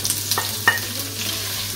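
Onions frying in about three tablespoons of hot oil, a brief steady sizzle with a few light stirring clicks, close and alone.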